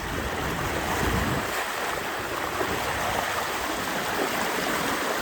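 Strong, continuous rush of a river current, loud and close, steady throughout with a slight deeper surge at the start.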